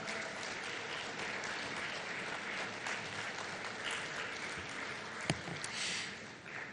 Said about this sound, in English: A big, loud round of applause for the former Congress President